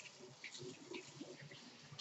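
Warm water poured into a bowl for bread dough, a soft steady trickling and splashing that runs close by for about two seconds, fairly quiet and with no talk.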